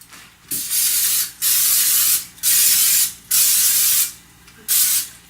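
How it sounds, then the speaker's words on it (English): Cooking spray hissing from an aerosol can into muffin tins, in five separate bursts of about a second each with short pauses between, close and loud, with no talk. "First thing you need to do is spray them with some cooking spray."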